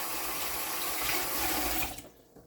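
Water runs loudly and steadily from a kitchen tap while hands are rinsed, then cuts off abruptly, leaving a quiet room.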